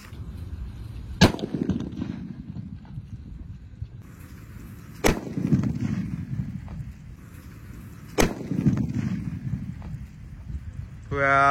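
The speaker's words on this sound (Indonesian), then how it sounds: "ini mercon buntelan kertas kasir yang ketiga, yang lebih jumbo ya" Three sharp, loud bangs from paper-wrapped firecrackers made of cashier receipt paper, set off during Ramadan, each blast spaced a few seconds apart and followed by a brief rumbling tail, with someone talking between them.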